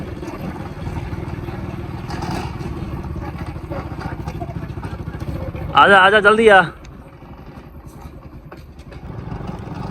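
A motorcycle engine runs steadily while ridden off-road through a village, its drone continuing under nearby talking, with a brief louder burst around the middle.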